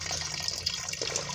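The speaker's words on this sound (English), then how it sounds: "I'm subtle with the pouring of the water so that the fishes won't get dizzy or something." Water pours steadily from a gallon jug into a fish tank, a soft continuous gurgle and splash that is close and gentle with no talk.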